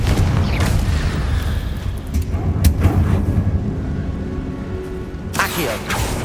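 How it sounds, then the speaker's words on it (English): Confringo blasting curse explosions in the Hogwarts Legacy video game, several deep booming bursts over a continuous rumbling game soundscape, with sharp bright cracks near the start, middle and end. "Confringo!"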